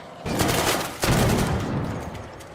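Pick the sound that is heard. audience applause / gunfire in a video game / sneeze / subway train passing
gunfire in a video game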